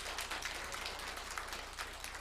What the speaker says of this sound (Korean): 우리 박수로 성가대 한번 축복하겠습니다